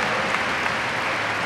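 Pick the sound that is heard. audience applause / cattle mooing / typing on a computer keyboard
audience applause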